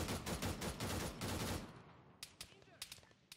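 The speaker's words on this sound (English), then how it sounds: "I'm pretty sure the shots are coming from my right" Rapid automatic gunfire in the Arma 3 Antistasi game on Altis, a dense loud burst for over a second, then scattered sharper single shots further off.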